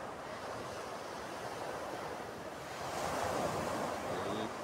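Strong wind blows outdoors in Europe where umbrellas are being repaired, a steady broadband rush of air buffeting the microphone. It swells a little louder partway through, with no one talking.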